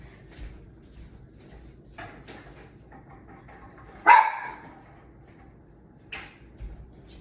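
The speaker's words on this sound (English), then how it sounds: "this whole time he hasn't barked, and of course I started a video, he wants to bark" A dog barks indoors a couple of times in short isolated bursts, fairly close, with a quiet room hum between the barks and no talking.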